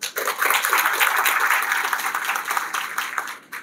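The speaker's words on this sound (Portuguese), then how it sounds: "Uma salva de palmas." An audience at the opening ceremony of a Ceará animal science symposium breaks into brief, dense applause, a full crowd clapping steadily at close range before cutting off sharply near the end.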